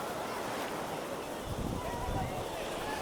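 Steady broadband surf rushes along a beach, with a stronger wave washing in midway; wind noise sits over the steady roar.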